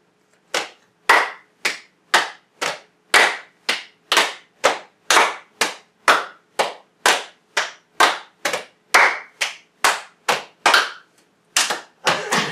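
Children clap out the Peas Porridge Hot hand-clapping game rhythm with no singing: about two dozen crisp, close claps in a steady, slightly uneven pattern.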